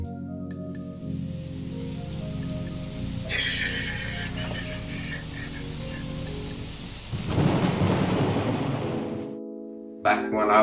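Rain falls steadily with rolls of thunder, set inside a nighttime song with sustained musical tones running throughout; the downpour swells louder toward the end before the music briefly drops out.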